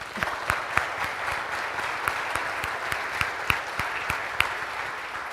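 An audience at a city's State of the City address claps steadily, with sharp individual claps standing out from a moderate, even wash of applause lasting several seconds.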